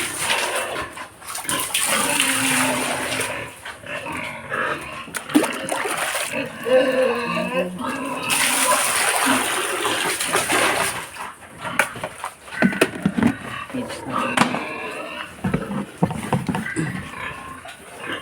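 A pet pig named Martis eats feed, making wet, splashy chomping and slurping sounds in uneven bursts. Occasional grunts and background voices drift in and out.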